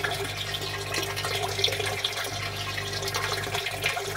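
An aquaponics water pump runs as a steady, loud wash of flowing water that continues without a break through the whole stretch.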